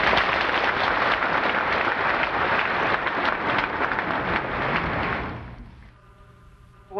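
A large audience at a spiritual lecture in Korea applauds to welcome a master, dense sustained clapping that fills the room, then fades out over the last second or two.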